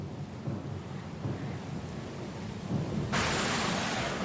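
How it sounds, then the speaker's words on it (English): Thunderstorm at sea in Pillars of Eternity Deadfire: steady heavy rain and wind with low rumbling thunder, swelling louder and brighter toward the end, no voices. "Lost and alone in the storm?"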